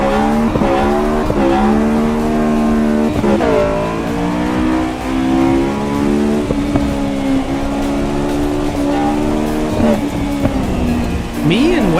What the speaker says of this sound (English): the car sounds good, so I'm going to turn the volume up max